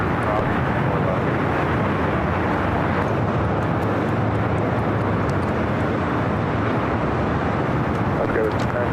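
A jet at LAX rumbles steadily in a broad, continuous roar, loud and sustained throughout, with radio voices talking over it.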